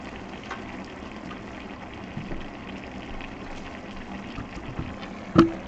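Kimchi jjigae stew bubbling in a cooking pot, a soft steady simmer heard up close and faint, with one louder bubble pop near the end.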